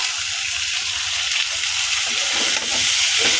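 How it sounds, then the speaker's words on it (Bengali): Food fries in a pan during simple home cooking, giving a steady, dense sizzle that runs close and unbroken throughout. "এটা মোটামুটি একটা পর্যায়ে এসে পড়ছে একটা ভাজা ভাজা পর্যায়ে আসছে"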